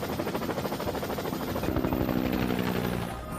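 Steady rhythmic thumping of helicopter rotor blades, loud and close, continuing throughout with a whining engine underneath.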